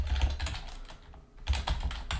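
Typing on a computer keyboard while writing C# code for a hangman game, a rapid run of close clicking keystrokes with a brief pause midway, no voice.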